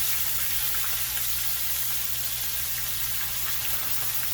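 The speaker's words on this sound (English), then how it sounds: "listen to that sizzle" Pork chops sizzle in hot oil in a pan, a steady soft crackling hiss with no break and no talk, moderately loud and close.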